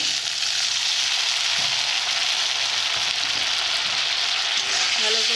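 Spice mix for a fish curry sizzling steadily in a pan after a splash of water, a continuous bright hiss with faint stirring scrapes and no talk.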